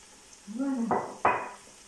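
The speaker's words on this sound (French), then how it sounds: "je vais remuer" Beef with carrots in a sizzling pot gets stirred in two short, scraping strokes, with a brief squeak before them over a faint sizzle.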